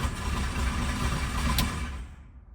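A 1974 Chevy C20 pickup engine, long left sitting in the desert, runs with a loud, steady rumbling drone that fades away near the end as it shuts down.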